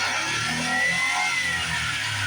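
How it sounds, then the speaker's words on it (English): Small engine of a Japanese mini truck revs up and holds a high, steady whine with a rough low rumble beneath, close and fairly loud, alone without talk. "If I go to the headlights, it revs up so fast, I'm afraid it's going to blow the engine."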